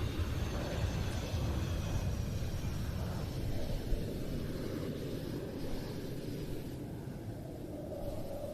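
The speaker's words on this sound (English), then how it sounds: "here comes a Typhoon" A Eurofighter Typhoon jet approaching during arrivals at the Royal International Air Tattoo airshow, a steady broad roar of engine noise that holds loud throughout, distant and rumbling rather than sharp.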